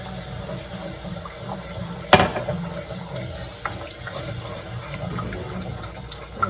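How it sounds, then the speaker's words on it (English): Almond milk poured into a hot pan for a dairy-free white sauce, a soft steady liquid rush with a sharper splash early on, close by and without talk. "this is the time I'm going to go ahead and add our milk in here"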